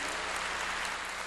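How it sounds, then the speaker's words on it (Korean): A church congregation applauds during a Korean sermon, a brief, dense, steady burst of many hands clapping at even loudness with no talk over it. "박수야"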